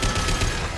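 Gunfire in the Mass Effect 2 video game during a fight to shoot an injection tube: a dense, continuous burst of rapid shots with mechanical clatter, loud and close, with no talking.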